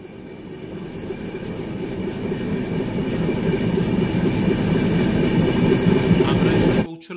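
The Gitanjali Express, 12859, runs loud and steady on the rails, a continuous roar and rumble with rhythmic clattering that builds over several seconds before cutting off.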